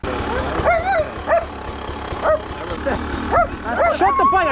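Several dogs bark repeatedly in short, sharp yips over the steady drone of a running dirt bike engine, the barking grouped in quick irregular bursts.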